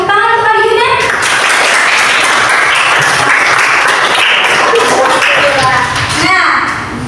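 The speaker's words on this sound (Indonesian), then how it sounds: "Tepuk tangan untuk Arjuna." Classroom clapping as pupils applaud a classmate during a water-cycle lesson, a loud sustained burst of many small hands mixed with children's voices and a teacher talking over it.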